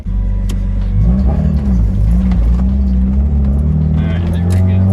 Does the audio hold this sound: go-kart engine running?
yes